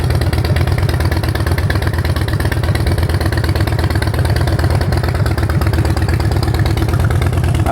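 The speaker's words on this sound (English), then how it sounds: "Sounds good with the Vance & Hines exhaust." A Harley-Davidson Street Bob with a Vance & Hines exhaust idles close by, a loud, steady, lumpy low-pitched throb with a rapid even pulse, alone throughout.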